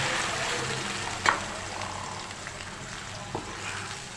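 Onions frying in hot oil for beef paye, with a low steady sizzle in the background and a sharp clink of utensil against the pot partway through.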